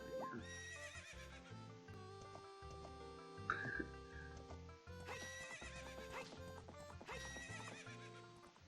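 A horse in The Legend of Zelda whinnies and neighs amid hoof clip-clops, layered over a bright, tonal in-game ranch melody, with repeated calls across the stretch.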